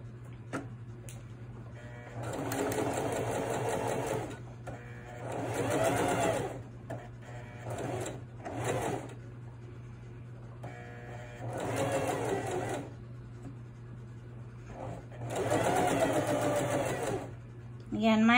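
Sewing machine edge stitching chambray fabric at a 2.5 stitch length, running in several distinct bursts of rapid mechanical whirring separated by short pauses, close and clear over a low steady hum.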